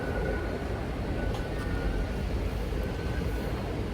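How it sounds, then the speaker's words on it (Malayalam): Steady, low-level ambience at Gatwick Airport with aircraft noise, a continuous distant rumble and hum without talking. "അപ്പോൾ ഇതേ ഗാറ്റ്വിക് എയർപോർട്ട് എത്തി."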